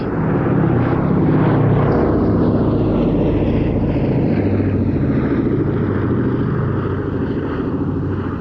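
A Boeing B-17 bomber flies past at an airshow, its piston engines producing a loud, sustained propeller roar that slowly shifts in pitch as it passes.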